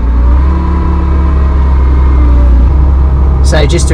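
An open-top classic car fitted with a 2.4 litre Porsche 911T engine drives along, its loud, steady engine drone running close throughout, with a voice briefly speaking near the end.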